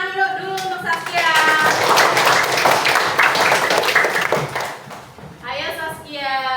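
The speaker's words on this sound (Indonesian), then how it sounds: "Kasih tepuk tangan dulu untuk Saskia." Classroom children clap for a classmate named Saskia, a dense burst of hand claps lasting several seconds with voices talking before and after.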